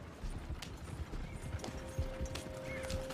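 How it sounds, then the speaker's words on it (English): Horses gallop in Red Dead Redemption 2, their hooves thudding in a steady, rapid rhythm under faint background game sounds, with no speech. "Horses won't go this fast for long."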